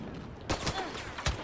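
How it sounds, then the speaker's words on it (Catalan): Scout pistol shots from a Star Wars multiplayer video game, a few sharp bursts in quick succession that start abruptly and stand out loudly against a busy game background, with no talking. "la pistola d'explorador, que és aquesta la que porto ara, que va prou bé, que pots fer dos trets només"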